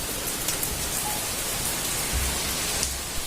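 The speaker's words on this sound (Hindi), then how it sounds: "बहुत तेज बारिश हो रही है" Heavy rain pours down steadily, a dense, even hiss of drops on surfaces with no break, and a few faint thuds sound underneath.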